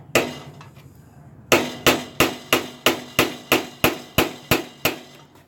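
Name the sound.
hammer striking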